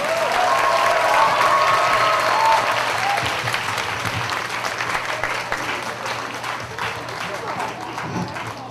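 A crowd at a church youth festival applauds loudly, with dense clapping that gradually thins and fades, while a voice speaks over it at the start.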